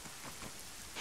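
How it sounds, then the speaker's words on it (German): Rain in the multiplayer game ArmA 3 Exile, a steady, dense hiss of drops pattering on surfaces throughout, with no voices. "Es gibt Regen."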